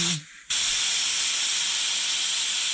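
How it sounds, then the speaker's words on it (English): Pressurised gas from a home-brew beer fermenter holding a gluten-free pale ale is released, starting after a short click as a loud, steady, broadband hiss that continues unbroken to the end. "remove the pressure from the fermenter"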